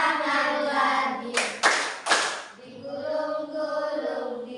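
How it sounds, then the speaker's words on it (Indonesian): A few sharp hand claps, three or four in quick succession, break through a children's song or chant with a hand-motion routine during a classroom lesson, voices singing before and after. "Bertepuk tangan"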